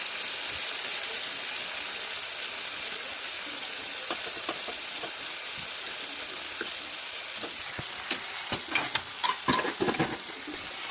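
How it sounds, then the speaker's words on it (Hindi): Chopped tomatoes sizzle and fry in a pan over onions in a home kitchen, giving a steady hissing crackle with occasional scraping stirs that grow busier toward the end, with no talking. "अभी टमाटर डाल दिया मैंने इसमें।"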